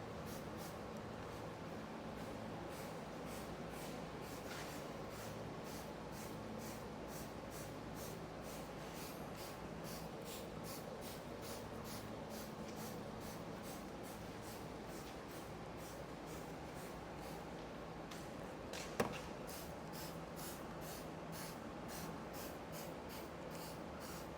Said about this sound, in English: You're just spraying soap onto the vehicle.